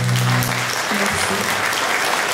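An audience claps loudly and continuously for a singer after her song at a live concert in Wattrelos, a dense wash of applause that fills the space from start to finish.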